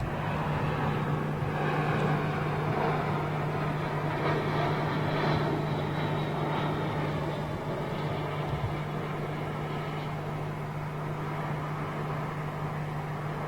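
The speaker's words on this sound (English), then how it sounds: "Beautiful example of the Corsair." A Corsair propeller aircraft in US Navy colours passing at Heathrow airport, a steady droning engine hum that holds over many seconds at moderate distance, with no talk over it.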